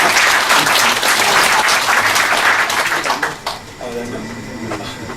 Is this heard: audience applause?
yes